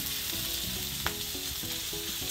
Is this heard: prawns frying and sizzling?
yes